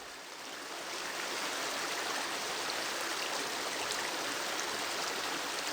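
A river in the White Mountains rushes steadily past, a broad, continuous wash of flowing water close by that swells in over the first second and then holds even and fairly loud.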